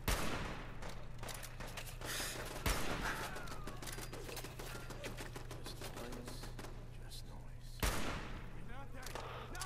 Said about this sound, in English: it's just gunshots while your friends are screaming dying